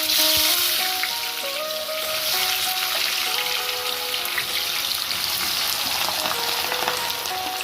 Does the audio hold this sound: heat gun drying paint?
no